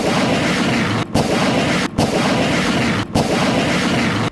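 Artillery shells firing at an army barracks in a war zone, a loud continuous barrage of booming blasts with a few brief gaps between volleys.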